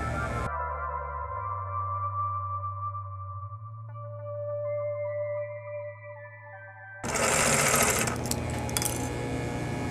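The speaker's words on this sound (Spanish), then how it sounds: "ahora lo vamos a dar vuelta y pespuntar por el lado del derecho, pero un solo pespunte" A sewing machine topstitching a lace party bag runs steadily with a smooth mechanical hum for several seconds, then stops, followed by louder rustling and handling of the fabric.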